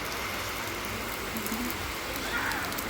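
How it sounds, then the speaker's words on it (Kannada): Heavy rain falls in a steady, dense hiss at a roadside spot where people stop for tea. The downpour sounds constant and close throughout the short stretch. "ಮಳೆ ನೋಡ್ರಿ ಎಷ್ಟು ಜೋರು ಬರಾಕುಂತೈತಿ"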